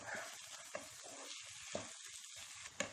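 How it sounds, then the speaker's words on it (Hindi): Chana dal fries with spices and dried fenugreek leaves in a pan over a high flame, producing a soft, steady sizzle with a few sharp ticks and pops. "हाई फ्लेम पे 2 मिनट के लिए चने की दाल को मसालों के साथ भून लेते हैं।"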